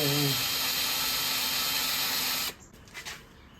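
A drill with a stop collar countersinks holes in a wooden board for a sled, whirring steadily and close up for about two and a half seconds before stopping abruptly, leaving a few faint knocks.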